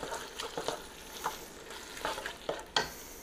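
A spoon stirs taco soup with canned diced tomatoes and their juice in a pot, giving a few soft scraping and sloshing strokes with quiet bubbling between them, close and fairly faint.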